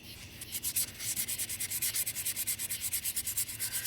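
Fine 600 grit sandpaper rubbing rust off a wheel rim makes rapid, rhythmic, close scratchy strokes, bright and hissy, with no voices.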